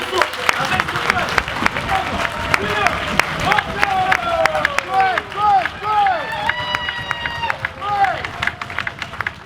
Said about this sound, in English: Clap your hand, stamp your foot, and make some noise.